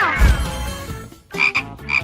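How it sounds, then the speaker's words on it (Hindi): A frog croaks in a short game-show-style challenge, with a few rough, bright croaks bursting loudly near the end after a low rumbling start; no one talks. "उफ, ये तो मेंढक था"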